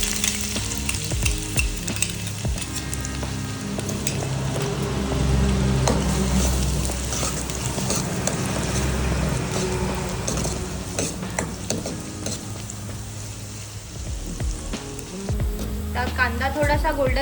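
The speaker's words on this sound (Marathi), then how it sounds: "तेल थोडं गरम झालं की कांदा टाकूया" Onion dropped into hot oil and frying, a loud dense sizzle with stirring scrapes that runs steadily throughout, close up.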